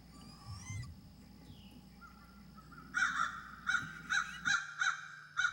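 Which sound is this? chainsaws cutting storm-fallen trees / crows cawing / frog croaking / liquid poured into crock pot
crows cawing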